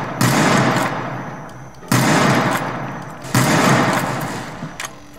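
Winchester rifle fire in the Roblox game The Wild West: three loud, close booming shots spaced about one and a half seconds apart, each with a long decaying tail, no voices.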